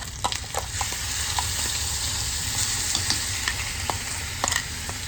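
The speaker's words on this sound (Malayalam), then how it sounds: "ഇഞ്ചി എടുത്ത് ഒഴിച്ച് കൊടുക്കാം" Ginger going into a hot pan for ginger curry sizzles and fries steadily, with scattered stirring scrapes and taps heard up close.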